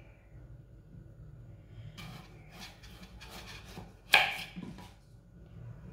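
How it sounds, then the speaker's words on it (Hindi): A knife cuts washed, unpeeled potatoes into long pieces with soft, sparse, close-up slicing sounds and one sharper, louder chop partway through, in a quiet kitchen. "आलू को इसी तरह काटना है लंबे पीसों में।"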